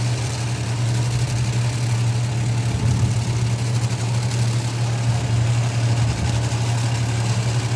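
Vintage drag racing car engines idle in a pit area at a nostalgia drag event, a steady, loud low rumble with a strong bass drone that holds evenly throughout, a few faint rises in the mix and no talk.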